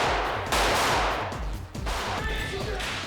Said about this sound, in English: There's a lot of bullet effects,